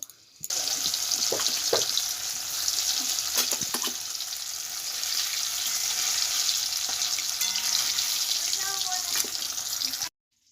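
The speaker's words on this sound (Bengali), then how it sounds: "তেল গরম হয়ে গেছে, এবার আমি পনিরগুলো হালকাভাবে ভেজে নেব।" Paneer pieces shallow-frying lightly in hot oil, a steady close sizzle with a few sharp crackles and light utensil clicks, running for about ten seconds before cutting out abruptly.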